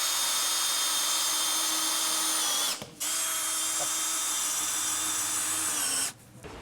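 A power screwdriver drives a screw through a board into a post while a BALEO garden pool house goes up, a steady high whine nearby with a brief break midway and a stop near the end.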